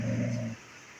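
A dog gives a low, sustained growling rumble with a whimpering edge for about half a second, fairly close, then falls quiet into faint room noise.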